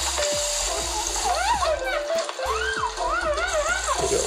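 Water spraying onto a small fire in the Android game Sprinkle hisses and splashes steadily, sitting under a bright, looping game melody that carries on throughout.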